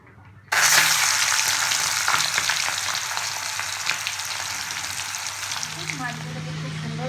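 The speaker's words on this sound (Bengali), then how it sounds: "এবার মাছগুলোকে হালকা করে ফ্রাই করে নেব।" Prawns rubbed with salt, turmeric and dry chilli powder drop into hot mustard oil and burst into a loud, steady sizzle right after a quiet start. The crackling frying continues close up with slight stirring noises.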